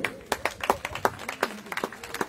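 Congregation clapping during a religious wedding ceremony, a loose scattering of handclaps rather than full applause, fairly close and moderately loud, with a few voices mixed in.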